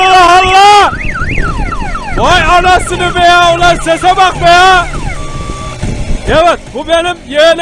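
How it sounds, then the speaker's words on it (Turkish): A loud car alarm wails with sweeping, rising and falling tones over a running engine, while people exclaim and chatter nearby. "Hem alarmı var hem motoru var."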